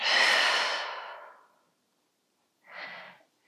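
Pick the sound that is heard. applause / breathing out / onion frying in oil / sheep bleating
breathing out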